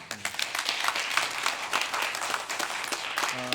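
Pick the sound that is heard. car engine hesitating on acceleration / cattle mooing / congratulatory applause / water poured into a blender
congratulatory applause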